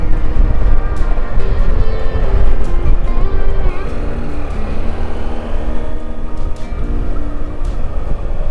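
A loud motorcycle engine drones steadily while climbing a winding mountain road in Morocco, a continuous close roar mixed with wind rush and no talk.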